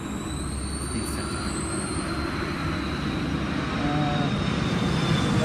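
A Sydney Trains M set runs past at Sydenham station, a steady, close, broadband rumble that swells slightly toward the end, with faint high whines above it and no talking.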